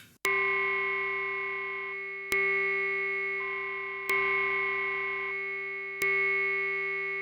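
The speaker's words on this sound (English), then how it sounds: "this sound right now is just a very resonant filter, as you can see. Being hit by a pulse here" A Prophet 5 Rev 4 synthesizer's very resonant filter rings out as it is struck by a pulse, four sustained pitched hits with sharp attacks and slow decay, each repeating about every two seconds.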